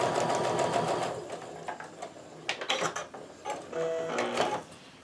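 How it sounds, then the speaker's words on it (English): A sewing machine stitches quilt fabric pieces in short, quiet runs of rapid mechanical whirring. Brief pauses fall between the runs while the next piece is fed through without cutting the thread. "I lift up my presser foot and I just slide the next one in without breaking thread and just sew that through"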